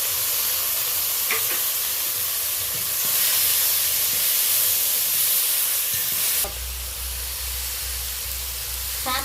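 Grated onion, tomato and green chilli sizzle loudly in a hot pan of tempered spices with a continuous frying hiss. Stirring scrapes sound throughout, and a sharp clunk and burst of fresh sizzle come partway through.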